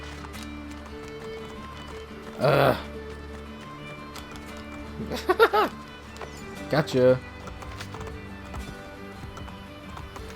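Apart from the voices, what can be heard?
horse hooves clip-clop in Assassin's Creed Brotherhood video game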